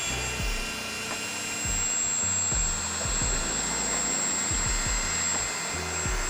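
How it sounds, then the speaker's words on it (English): An electric air pump whirs continuously at close range while inflating pools and other inflatables, a steady droning motor with faint bumps and knocks underneath. "it's basically like an air pumper. You can inflate like your little pools and inflatables"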